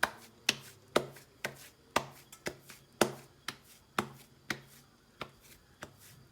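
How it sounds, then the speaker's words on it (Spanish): Cheese arepa dough being patted and flattened between bare hands, a close, steady series of sharp slaps, roughly two per second, with nothing else around them. "Con nuestras manos le vamos dando forma, girando la arepa"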